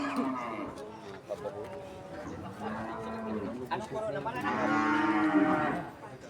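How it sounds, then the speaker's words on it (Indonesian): Cattle mooing repeatedly at a busy Purwakarta livestock market, several long lowing calls at close range, the loudest near the end, over a bed of crowd chatter and people talking. "Jadi kebanyakan sapinya Pak adanya."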